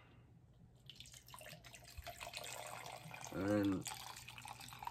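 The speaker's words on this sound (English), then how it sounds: "I'm gonna put the water in." Water is poured into a shaker cup holding a few ice cubes, a short rising gurgle of filling near the end, heard alongside a speaking voice.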